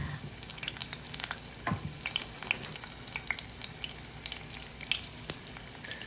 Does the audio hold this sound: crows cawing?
no